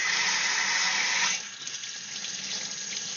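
Water sprays hard in a fish room, a loud hissing rush that suddenly drops to a quieter, steady trickle.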